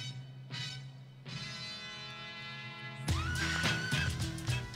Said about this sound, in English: That was a wild horse.